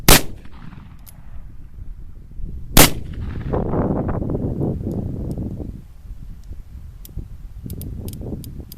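An 1875 Outlaw revolver firing .45 Colt blackpowder rounds outdoors in snowy, blustery weather: two loud sharp shots several seconds apart, each followed by a long rumbling echo, with wind noise and small clicks in between.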